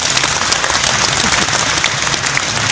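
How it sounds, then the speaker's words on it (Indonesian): Dense, steady applause from an audience at an Indonesian religious gathering with sholawat, filling the short clip with continuous clapping at even loudness. "Tepuk tangan buat saudara semua."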